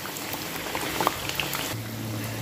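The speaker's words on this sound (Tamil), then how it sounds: "தட்டையை போட்டுட்டு ஸ்டவ்வை மீடியம் ஃப்ளேமில் வச்சுட்டு இதை திருப்பி திருப்பி விட்டு வெந்தெடுக்கலாம்." Thattai, crisp snacks made from dosa batter, deep-fry in hot oil over a medium flame, giving a close, dense bubbling sizzle with scattered pops and a low hum, and no talk.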